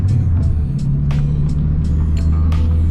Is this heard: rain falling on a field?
no